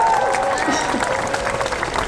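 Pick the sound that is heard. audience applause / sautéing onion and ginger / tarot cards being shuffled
audience applause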